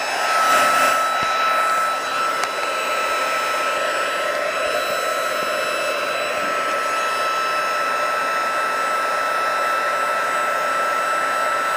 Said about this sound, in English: you can watch the heat embossing happen